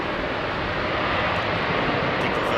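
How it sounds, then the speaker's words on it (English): Thrust reverser of a big jet landing on runway 09L at London Heathrow, a loud, steady broadband roar that fills the whole clip, close and continuous with no voices over it. "Big reverser"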